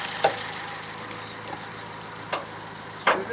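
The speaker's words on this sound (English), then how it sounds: "the engine does sound a little bit ticky, like it ticks a bit" An old car engine idles steadily at close range, a low continuous hum broken by a few sharp, isolated ticks and knocks.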